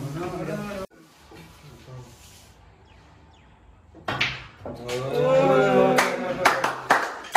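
A few sharp hand claps come near the end during a pool table match in Jalandhar, following a stretch of loud, animated talk among the players.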